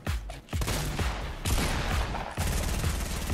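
Rapid bursts of automatic gunfire in Fortnite Battle Royale as a player shoots down a tree, dense crackling volleys with brief gaps between them, loud and close, with no talking.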